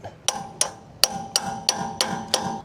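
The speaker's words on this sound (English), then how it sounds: "You might have to use a hammer to pound that socket onto the lug nut" Seven sharp metallic hammer strikes pound a socket onto a boat trailer wheel's lug nut in a roughly even rhythm, close and clear, each hit followed by a brief ringing decay.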